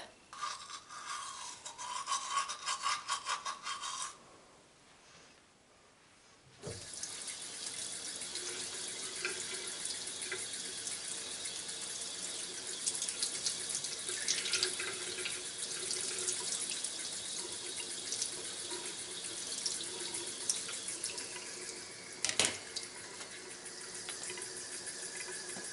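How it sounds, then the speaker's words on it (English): Tap water runs steadily into a bathroom sink while teeth are brushed, a continuous close hiss with a brief pause early on and small clinks and rubbing sounds, no talking. "I'm going to brush my teeth."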